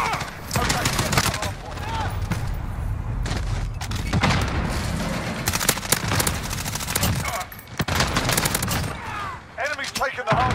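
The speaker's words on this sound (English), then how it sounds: "Grenade." In a Call of Duty Modern Warfare multiplayer match, rapid gunfire crackles in bursts alongside heavy booming thuds of explosions, loud and close throughout, with brief in-game voice callouts mixed in.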